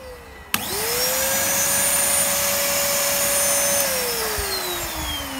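A Numatic NNV200 canister vacuum cleaner switches on with a click and roars steadily, its motor whine rising then dropping, with a thin high whistle from the hose running above the drone.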